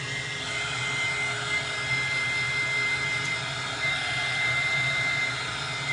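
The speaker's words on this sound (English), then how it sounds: "This is a heat gun, Lisa." A cheap handheld heat gun blows hot air over wet paint on a glass art piece, giving a steady, moderately loud fan whoosh with a faint high whine, constant and without talk.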